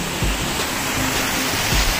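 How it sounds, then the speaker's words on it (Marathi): Waterfall at Susarondi near Nivoshi, Guhagar, a loud continuous roar of falling water filling the whole clip as a dense, steady rush with occasional low thumps. "पाणी पडत आहे धबधब्याचं।"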